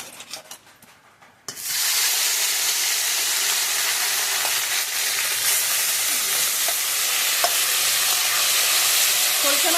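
Ingredients for a pumpkin-peel fish curry hit hot oil in a pan, setting off a sudden loud, continuous sizzle that keeps going steadily at close range after a brief quieter start with light clatter.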